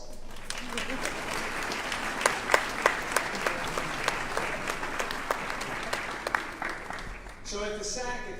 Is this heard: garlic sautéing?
no